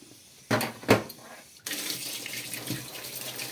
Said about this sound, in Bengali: আমি আমগুলোকে প্রথমে একবার করে একটু ধুয়ে নিই